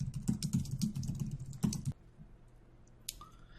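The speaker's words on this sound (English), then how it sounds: "it took me about 2 minutes to type all this out" Fast, dense clicking of keys on a computer keyboard runs for nearly two seconds, then stops, leaving quiet room tone with a single faint tap and a short high squeak near the end.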